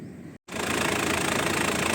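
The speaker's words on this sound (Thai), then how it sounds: "สตาร์ทให้ฟังเสียงเครื่องกันครับ" A 2002 Mitsubishi Pajero V76 4M40 diesel engine idles steadily after a brief cutout, with a low, even rumble and faint knocking rattle, close by, no voices.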